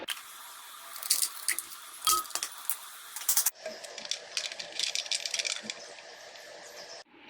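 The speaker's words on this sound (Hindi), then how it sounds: "अब इसमें थोड़े आइस क्यूब्स डालेंगे ताकि मक्खन इकट्ठा हो जाए सारा।" Ice cubes dropped into freshly churned homemade buttermilk, a run of close, sharp clinks and wet plops scattered irregularly over a quiet background, with a denser burst of clatter in the second half.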